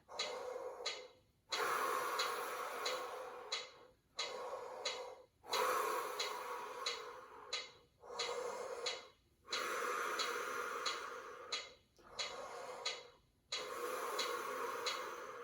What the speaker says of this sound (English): we're gonna breathe in for 2 counts and then out for 4 counts